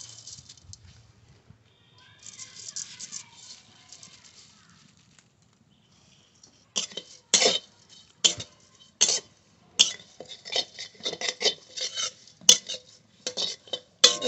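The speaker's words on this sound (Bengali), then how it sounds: "লবণ দিয়ে জল দিয়ে চিড়ে মেখে নিয়েছি, এবার ভেজে নেব। শুকনো কড়াইতে দিয়ে ভেজে নেব।" Soaked flattened rice (chira) mixed with salt and water is dry-roasted in a dry wok, with repeated loud scraping and clattering bursts of stirring after a quieter start.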